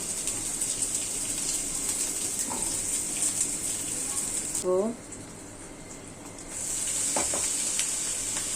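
Onions frying in hot oil give a continuous bright sizzle that briefly drops away midway and then returns, with a short voice-like sound and a few faint clinks in the background.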